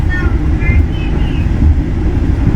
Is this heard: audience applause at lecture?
no